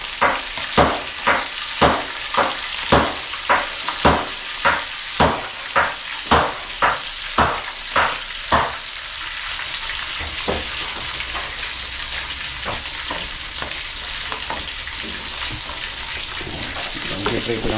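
Galunggong fish frying in a pan gives a steady sizzle with a run of sharp rhythmic scraping or stirring strokes over the first half, then continuous crackling frying.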